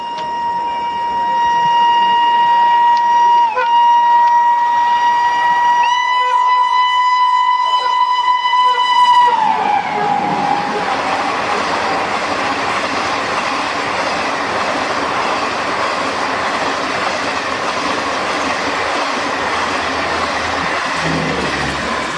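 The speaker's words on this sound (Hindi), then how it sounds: "ये थी न्यू दिल्ली से रांची की तरफ जाने वाली 12878 रांची गरीब रथ एक्सप्रेस" The 12878 Ranchi Garib Rath Express overtakes on a parallel track, its horn sounding loud and near for several seconds before giving way to a sustained roar of wheels and rushing carriages clattering past.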